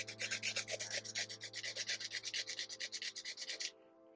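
Fine grit sandpaper rubbing the end of a jewelry wire for a wire-wrapped pendant, quick rhythmic back-and-forth scratching strokes, close and steady, stopping abruptly near the end.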